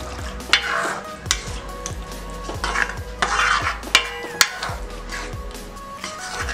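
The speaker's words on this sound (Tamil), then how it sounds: "இப்போ இதை நல்லா கலக்கி விட்டாச்சு." Broccoli paneer gravy with yogurt and sauce being stirred in a pan, a steady rhythm of spoon scrapes and clinks against metal over a faint sizzle, close and moderately loud.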